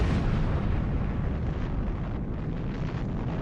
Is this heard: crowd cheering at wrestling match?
no